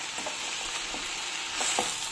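Tomatoes with salt and a little turmeric fry in a pan, a steady soft sizzle throughout with a few faint stirring taps, close and moderately quiet, no talking.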